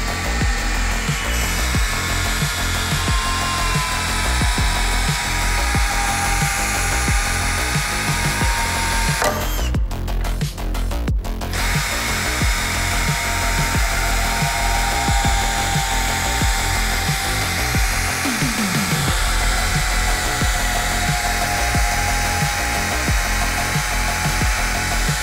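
A Flex 12V cordless screwdriver whirs steadily and loudly close by, driving screws with a continuous buzzing motor note, briefly cutting out in the middle.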